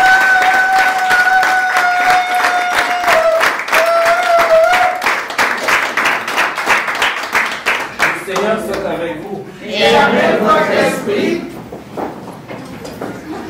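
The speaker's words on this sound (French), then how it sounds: "si vous voulez bien m'applaudir" Audience applause at a 60th birthday celebration, dense clapping spreading through a room, briefly under a singing or sustained voice early on, then continuing with talk mixed in.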